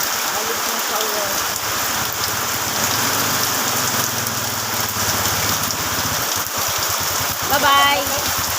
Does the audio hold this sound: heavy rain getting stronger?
yes